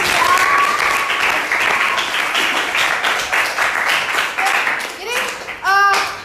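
Students in a classroom applaud themselves after a history lesson, a dense burst of clapping that rolls on for several seconds before thinning, with children's voices and a teacher speaking briefly as it ends.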